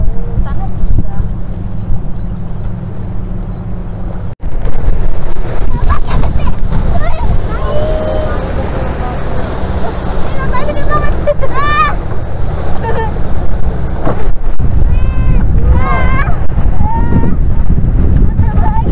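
Small boat riding the sea off Gesing Beach, Gunung Kidul, Yogyakarta: loud continuous engine drone and wash of waves with heavy wind buffeting the microphone, faint voices underneath throughout.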